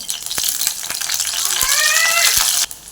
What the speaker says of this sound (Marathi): आपण तेल टाकूया कढीमध्ये त्यामध्ये आपण कांदा टाकूया